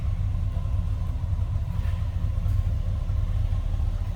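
Stock-exhaust 1979 Chevrolet Camaro Z28 idling from behind the car, a steady low, even rumble with no cam lope, continuous and alone with no talk.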